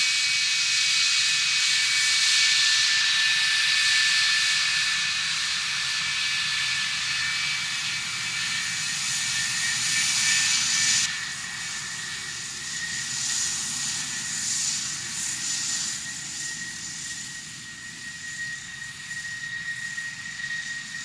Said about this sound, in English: looking at the Italian F-104 Starfighters